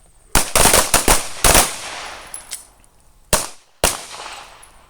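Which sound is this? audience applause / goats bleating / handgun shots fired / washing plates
handgun shots fired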